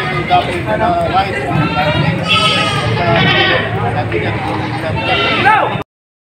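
A goat at a livestock sale bleats loudly and repeatedly close by, its cries rising and wavering over continuous talk from people nearby.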